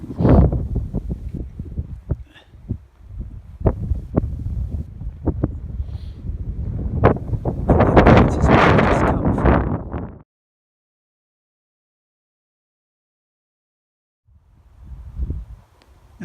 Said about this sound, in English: There's quite a breeze blowing up here.